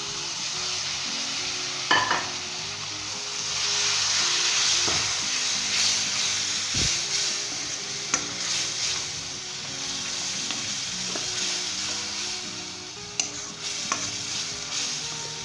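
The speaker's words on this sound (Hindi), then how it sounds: "इसमें साथ ही आपने फ़ौरन टमाटर डाल देना इसके अंदर।" Tomatoes hit hot masala in a karahi, setting off a steady loud sizzle and hiss with occasional stirring knocks and scrapes of a spoon against the pan, no voices.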